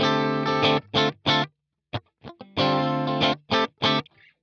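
Fender Deluxe Roadhouse Stratocaster in pickup position two plays distorted chords in short bursts with sharp stops and gaps, a few muted plucks in between, close and loud.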